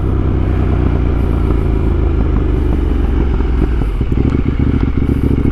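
A KTM Duke 890R motorcycle engine roars loudly and steadily through a wheelie attempt, a dense close rumble holding for several seconds with some clatter toward the end and no talk.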